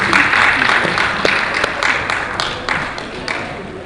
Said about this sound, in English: Once again, let's give her a round of applause.